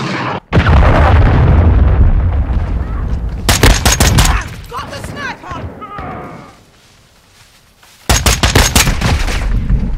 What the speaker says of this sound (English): Requesting close air. Target marked. Friendly cruise missile deployed.